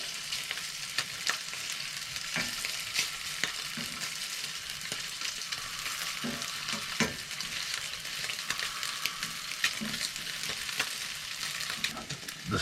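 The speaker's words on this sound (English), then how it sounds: "Lovely little bit of browning going on there." Pork browning in a pan on a stove top, a constant dense sizzle of frying with occasional light taps and scrapes of a utensil, close and steady with no voices.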